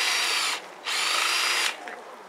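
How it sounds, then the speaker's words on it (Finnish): A power drill bores a 12 mm hole into a tree trunk for tapping sap, whining loudly and steadily in two long bursts with a brief pause between, close up. "Puurunkoon siis porataan reikä."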